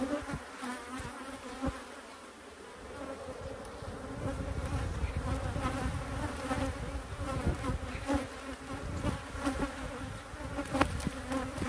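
Honey bees buzz densely and steadily, close and fairly loud, as they are shaken off a hive frame's comb during beekeeping work, with occasional knocks and handling sounds.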